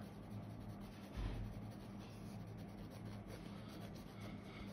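Pencil line strokes on paper while shading an Alpine goat drawing, a faint, close, soft scratching that rubs back and forth in short continuous passes.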